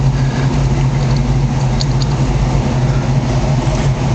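A 1975 Ford Bronco's engine idles steadily with a deep, throaty dual-exhaust rumble, loud and close, running evenly throughout.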